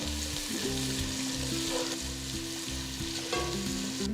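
Steady, close sizzling and crackling of thinly sliced onions frying in hot oil with spices, continuous throughout with faint clinks and background tones.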